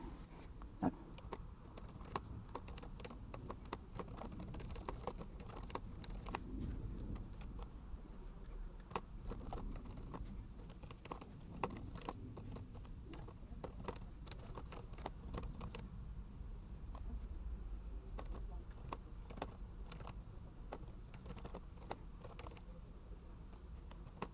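Typing on a computer keyboard, a steady run of soft key clicks continuing throughout under a low background hum, fairly faint and close.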